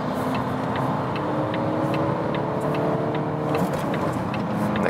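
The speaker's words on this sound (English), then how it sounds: "Let's now also go back to some gears and see we can drive a little bit faster" A 2019 Volvo V60 accelerates through the gears while driving, its engine a steady, loud cabin drone with a faint rhythmic ticking over the top and no break in the sound.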